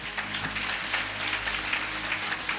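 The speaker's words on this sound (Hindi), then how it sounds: "जोर से यीशु के लिए ताली बजाएं।" A church congregation claps loudly for Jesus during a Hindi sermon, a dense, steady patter of many hands filling the room, sustained without speech and somewhat distant in tone.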